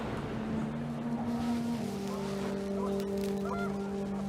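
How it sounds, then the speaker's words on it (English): Geese honking in a panic in the video game What Remains of Edith Finch, a few sustained honks over a steady droning bed of ambient noise, with no talk. "panicked geese appeared and quickly went"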